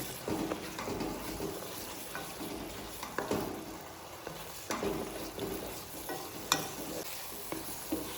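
Papaya halwa cooks with ghee in a pan, a soft steady sizzle broken by repeated scraping stirs at irregular intervals, with no talking.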